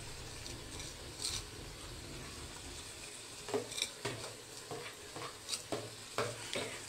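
Fried liver cooking in oil with finely chopped green coriander sizzles steadily. Spoon scrapes and stirring knocks come in short bursts, growing more frequent in the second half.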